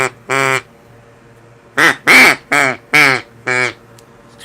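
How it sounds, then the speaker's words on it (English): Six loud, close quacks from a hand-blown "power hen" duck call, coming in separate bursts with short pauses between them: one early on, then a quicker run of four and a final call near the end. "And I got my duck call."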